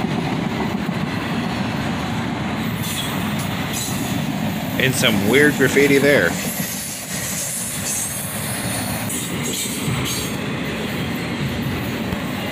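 CSX freight train led by an ET44AH locomotive rolling past in a park, a loud continuous rumble with wheel squeals and clattering rail joints, while someone talks over it.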